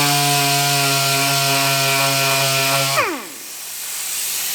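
Power sander grinding against a plastic motorcycle fender to take out scratches, a steady loud whine with strong tonal harmonics that slides down in pitch as the tool spins down after about three seconds, then fades into a faint hiss.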